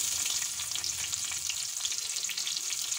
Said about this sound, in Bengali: পেঁয়াজ কুচিটা বাদামি করে ভেজে নিতে হবে নেড়ে নেড়ে।